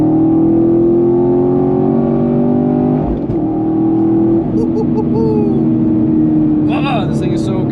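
A Chevrolet Camaro 1LE engine rumbles and revs steadily at close range, its deep tone rising and falling, with a brief louder burst near the end.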